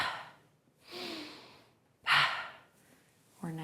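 Breathing during slow yoga neck circles: audible inhales and exhales come in separate close breaths, with a sharper, louder breath near the middle and a brief voiced sound at the end.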